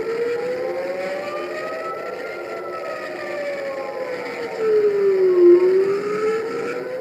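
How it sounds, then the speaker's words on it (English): Air raid sirens wail over Tel Aviv during a missile barrage, long rising and falling tones from distant sirens overlapping, steady and moderately loud, with a swell in volume toward the end. "Sirens sounding over Tel Aviv as a barrage of missiles hit the nation."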